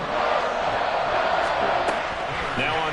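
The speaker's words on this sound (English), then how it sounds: "This crowd turning up the decibel level." Stadium crowd in the Madden 24 football video game: a steady, dense roar of many voices filling the whole stretch at moderate loudness, with faint thumps and a commentator's voice over it.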